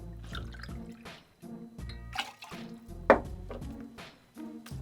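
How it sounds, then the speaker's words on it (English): Código Rosa tequila poured into a cocktail, a couple of ounces gurgling and splashing in uneven bursts with short pauses, close and fairly quiet. "So 2 ounces of that, a nice healthy pour."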